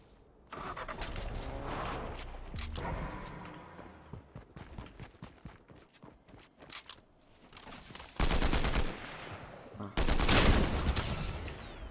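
Gunshots in a Fortnite match, scattered sharp cracks that build into two loud, dense bursts of firing near the end, mixed with other game noise and players talking.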